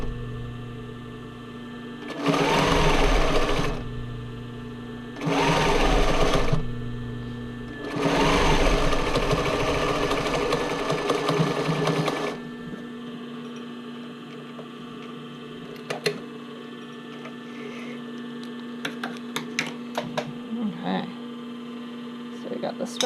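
A sewing machine stitching a criss-cross sports bra waistband, running in three loud, close bursts with pauses between, over a steady mains hum, then stopping to leave the hum and scattered faint handling clicks.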